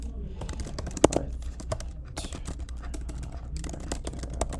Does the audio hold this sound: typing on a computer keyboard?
yes